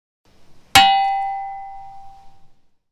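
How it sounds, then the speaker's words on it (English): A single sharp metallic clang of two shovels struck together, close and loud, followed by a bright ringing tone that decays slowly over about two seconds, otherwise quiet. "how it actually felt to bang these shovels against each other in that moment"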